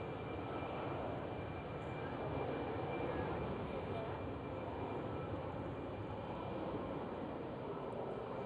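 An EasyJet airliner passes at Schiphol airport in winter, a steady, broad engine roar that holds at an even level throughout with a faint thin tone above it.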